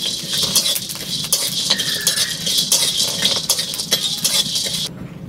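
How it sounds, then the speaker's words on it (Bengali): Whole spices (cinnamon, mace, cubeb, black pepper and nutmeg) dry-roasted in an earthen pan, rattling and clinking steadily as they are tossed and stirred for a few seconds, close and fairly loud, ending abruptly. "এবার আমি কাঠখোলায় ভালো করে ভেজে নেব।"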